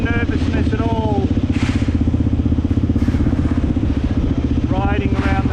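Motorcycle riding through suburban streets of Lahore, a steady close engine drone with rhythmic pulsing throughout, loud and continuous, with a voice speaking over it and occasional passing traffic sounds.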